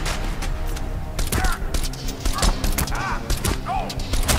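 Sharp gunshots from the shooter Crysis 2, irregular single and clustered cracks with booming impacts and thuds, mixed with game voices and background noise.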